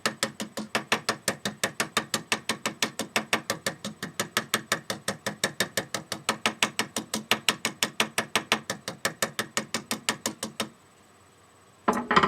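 A small hammer taps rapidly and evenly on a metal pin to peen its end over, a long run of bright, regular metallic clicks close up that stops abruptly near the end.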